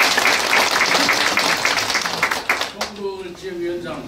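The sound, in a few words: audience applause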